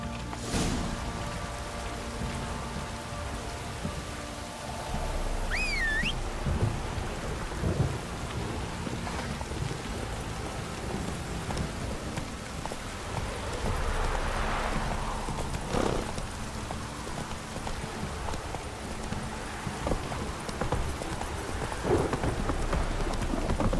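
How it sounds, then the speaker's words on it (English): A heavy downpour in the video game The Witcher 3: dense, steady rain hissing across the scene with rumbles of thunder and a few sharp cracks, plus hoofbeats clopping nearby. "This downpour's a bastard, it is."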